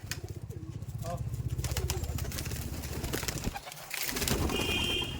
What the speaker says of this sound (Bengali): এই পায়রাগুলো ছাড়া হচ্ছে